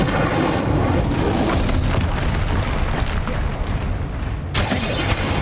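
The Incendio fire spell being cast in Hogwarts Legacy gives a dense, roaring burst of magical flame and booming effects that fill the whole stretch loudly, with a sharp break near the end.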